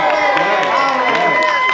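A crowd at a fan expo panel cheers and claps, with loud, sustained applause and shouting filling the room throughout.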